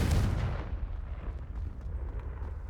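The Confringo fire spell from the Hogwarts Legacy video game lands as a loud, fiery blast. A deep rumble follows and slowly fades, with no voice over it.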